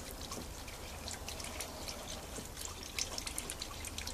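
Tap water flushes through the heater of a BMW E39 undergoing an EV conversion, giving a faint, steady trickle and dribble with scattered drips that runs on without a break, and no voices.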